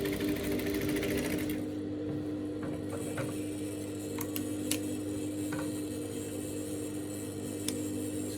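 A sewing machine stitches a pocket seam on straight-leg pants, its steady motor hum running throughout at close range with small ticks and clicks scattered over it.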